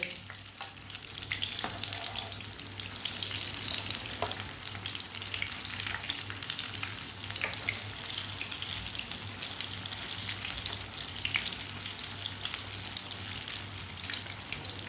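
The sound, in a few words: winter breakfast flatbread frying in pan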